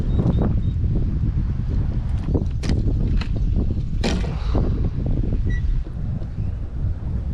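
Strong wind buffets the microphone during kayak fishing on the water near Corpus Christi, giving a loud, continuous low rumble with gusty surges and a few small knocks and splashes up close.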